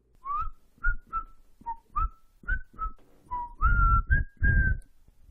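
A person whistles a short melody of about a dozen clear notes, some sliding, with small breathy puffs between them, close and alone.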